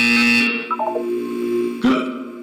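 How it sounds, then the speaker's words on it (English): Buzzer in the video game Portal 2, a loud harsh electronic drone that cuts off with a falling tone, then a second abrupt buzz burst starts near the end, with no talk. "When you hear the buzzer, look up at the ceiling."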